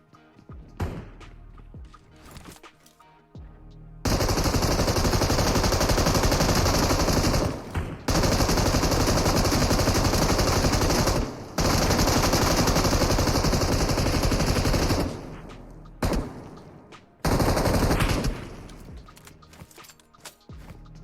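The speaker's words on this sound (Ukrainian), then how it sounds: "Бот дуже громко стріляє" Loud automatic gunfire from a bot in PUBG Mobile Metro Royale comes in several long sustained bursts separated by brief pauses, with quieter footsteps and game noises between volleys.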